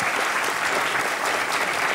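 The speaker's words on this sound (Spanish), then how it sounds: "vamos a darte un aplauso para que te quedes por lo menos a esta parranda" Loud, steady applause from an audience at a Canarian parranda music gathering, dense clapping sustained throughout.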